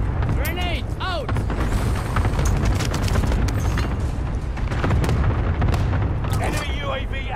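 Grenade explosions in Fortnite rumble as a dense, sustained boom through a noisy battle mix, with brief voice-like game callouts near the start and end.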